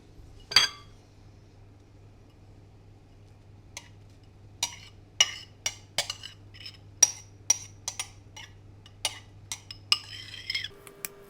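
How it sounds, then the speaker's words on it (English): Grated carrot being mixed into a homemade rabbit treat mixture in a bowl, heard as a string of sharp, close utensil clinks and taps against the bowl in an irregular rhythm over a quiet background hum. "Then you're going to need to mix your carrot in with this."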